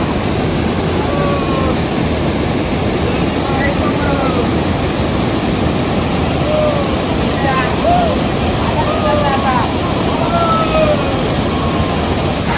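A waterfall at Malgund pours in a steady, dense roar of rushing water that fills the space close by, with faint voices now and then beneath it.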